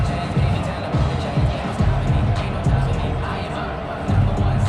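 A simulated stadium crowd at a 49ers vs Bears football game in Madden 21 keeps up a steady, moderately loud roar, with a commentator talking over it throughout.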